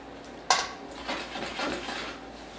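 An omelet being flipped in a pan: one sharp metallic clank of the pan, then soft scraping and sliding sounds as the egg shifts, close and fairly quiet.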